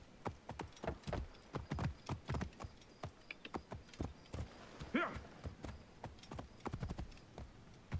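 Horse hooves clop steadily in a quick rhythm on a hard surface, with a brief whinny partway through, in the video game Assassin's Creed Origins.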